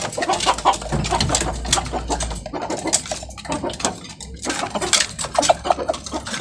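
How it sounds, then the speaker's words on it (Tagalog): Chickens cluck and chatter busily, with scattered clinks and rustling as feed is handled nearby. "pagpapatoka ako ng manok"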